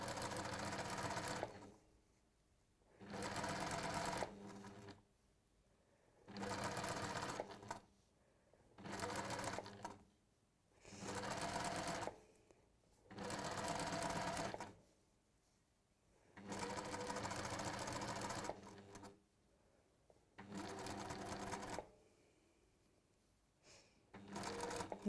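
A sewing machine fitted with a quarter-inch foot and guide stitches in a series of roughly nine short bursts, each separated by a moment of quiet, close and distinct.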